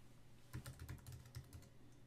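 Password typed on a computer keyboard while joining a wireless network set up on an Aruba IAP93 access point: a quick run of close, light key taps lasting about a second, with no talking.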